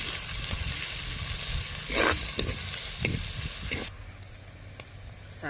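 Onion, green chili and curry leaves sautéed in a pan: a dense, close sizzle with several spatula scrapes and knocks, the frying hiss dropping off sharply partway through as quieter stirring continues, no speech.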